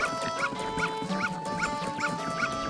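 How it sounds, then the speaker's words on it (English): A dog in The Legend of Zelda: Majora's Mask lets out a quick, steady run of about seven high yips, roughly one every half second, over a faint sustained musical tone. "if that dog gets near you, he'll tackle you and you'll lose"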